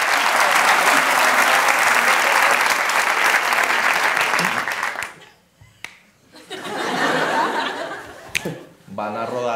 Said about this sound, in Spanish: hagámosle fuerte el aplauso a Fab.